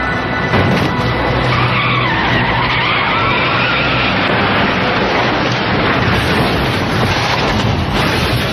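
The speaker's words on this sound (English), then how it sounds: "Dennis Galindo and his wife were awakened by the sound of the accident." A car skids with a long, loud tire screech and rough roaring noise that runs for several seconds on a roadway, without a distinct separate impact.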